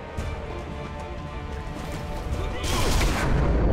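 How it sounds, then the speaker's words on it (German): Machine-gun fire in the Sniper Elite V2 war game: a dense, continuous crackle of rapid shots that swells louder and harsher near the end, with no clear gaps between rounds. "Ich glaube, das ist irgendwo ein MG"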